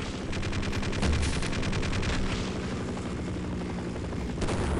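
Helicopter rotor thumping steadily in Half-Life with rapid bursts of gunfire layered over it, loud and continuous throughout with no talking.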